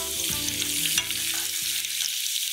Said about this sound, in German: Und die feingeschnittenen Knoblauchscheiben dürfen im heißen Öl baden gehen.